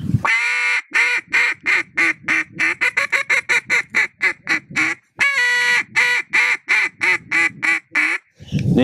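Hen calls are blown on a duck call by a competitive caller: a steady run of loud, close quacks in a descending cadence, with a short pause partway through and no talking.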